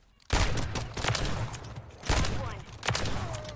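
Rifle fire from Modern Warfare 3, the JAK Beholder-kitted rifle firing loud, close bursts in three main volleys with brief gaps, the rapid shots running together into a dense rattle.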